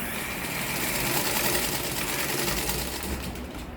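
A sewing machine runs steadily while stitching fabric pieces for a zara cap, giving an even, buzzing mechanical drone with a fast needle rattle, close and loud with no pauses.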